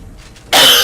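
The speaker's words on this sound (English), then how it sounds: "You're just gonna have to live with that cough there." A single sharp, close cough bursts out from someone narrating a video game tutorial, loud and alone after a moment of near silence.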